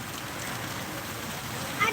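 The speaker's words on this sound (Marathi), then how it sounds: "पावसाचा वेग वाढलेला आहे आता" Rain intensifying during a windy downpour by a highway in Kinwat taluka, Nanded: a short, unbroken wash of hissing rainfall and wind with a small burst at the very end.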